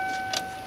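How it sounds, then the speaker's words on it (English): A Lincoln car's ignition key is turned to the on position, giving a brief steady electronic tone with a small click, close and fairly quiet. "Turn the key on."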